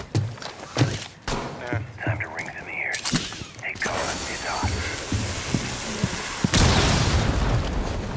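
Gunfire from a Rainbow Six Siege match on Hereford Base, shots fired into a wall, with sharp bursts and thuds in fits and starts under talk and game noise.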